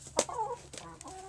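A pet hen being held and groomed gives a few brief, close clucks and squawks with short pauses between them; no voices are heard.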